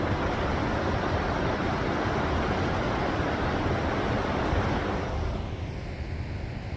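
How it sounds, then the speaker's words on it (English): Gullfoss, one of Iceland's largest waterfalls by volume, roars from roughly a kilometre away as a dense, unbroken wash of noise that stays loud throughout, with wind buffeting the microphone. "We have arrived at the astounding Gullfoss waterfall, which is one of the largest by volume of water"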